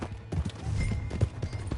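Horse hooves clip-clopping in Red Dead Redemption 2 on PS5, a quick irregular run of dull thuds close by, with faint game ambience behind.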